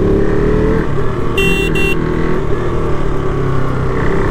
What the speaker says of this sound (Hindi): एहान की बाइक भाई साथ ही साथ में है